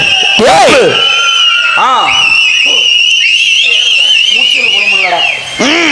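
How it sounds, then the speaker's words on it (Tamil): Young people in a crowd at a village festival dance whistling loudly and repeatedly with clapping and shouting, sharp piercing whistles layered over a voice calling out. "இந்த இளைஞர்கள் விசில் அடிங்கப்பா கை தட்டுங்கப்பா"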